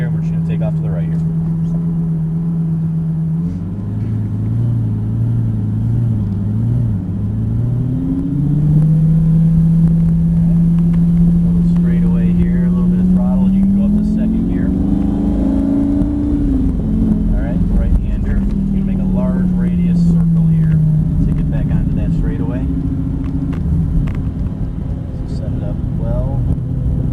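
A car pulling away in first gear on a track, its engine rising in pitch through the gears with a strong close rumble, a voice talking over it throughout.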